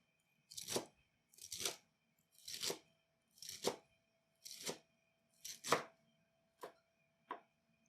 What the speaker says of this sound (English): So cut the stems